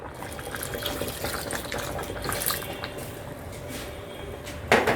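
Watered coconut milk being poured into a pan of masoor dal sambar with cooked tomatoes and masala, a steady close liquid splashing and trickling throughout, with a louder splash right at the end.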